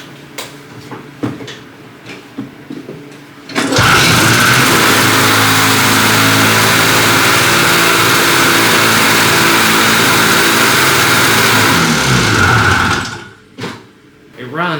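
A snowmobile strapped down on a trailer is pull-started and roars up to a loud, steady, very high idle that holds for several seconds before dropping away, with people talking in the quieter stretches before and after.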